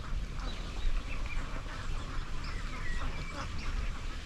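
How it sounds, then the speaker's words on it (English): Farm ducks quack in a loose flock near water in the English countryside, a steady busy chorus of overlapping calls at moderate distance over outdoor ambience. "This has to be like a farmer's ducks or something."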